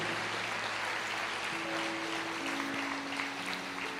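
A church congregation applauds in a warm, continuous wash of clapping while a sustained organ or keyboard chord hums underneath.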